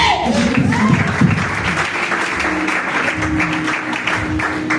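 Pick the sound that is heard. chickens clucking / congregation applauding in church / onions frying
congregation applauding in church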